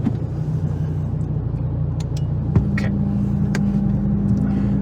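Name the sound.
Audi TT RS Mk1 engine during dyno pull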